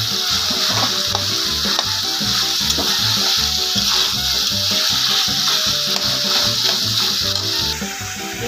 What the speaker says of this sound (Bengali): এবারে দিয়ে দেবো মাছ ভাজা।